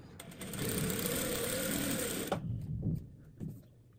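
Sewing machine stitching together fabric squares, running loud and steady for over two seconds, then stopping, followed by a few soft handling knocks.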